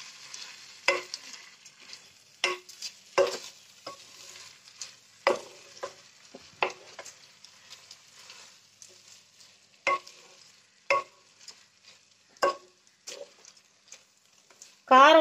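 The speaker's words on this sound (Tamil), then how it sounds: "நல்லா அரிசியை போட்டு வறு வறு வறுன்னு வறுத்துக்கலாம்" Rice fried with onion and tomato in a pan, stirred with a series of sharp scraping clacks of the spoon over a faint background sizzle, coming in irregular bursts with quiet gaps between them.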